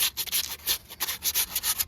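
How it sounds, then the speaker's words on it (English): Rough, scratchy sandpaper sanding a brake rotor on a 2004 Dodge Dakota in quick back-and-forth strokes, each burst a bright rasp against metal, close up with short pauses between passes. "here's that sanding process. I'm just getting the sandpaper in"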